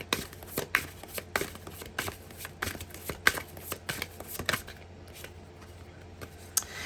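Tarot cards being shuffled by hand: a run of crisp riffling snaps and papery slaps in an uneven rhythm, close and moderately loud, with no talking.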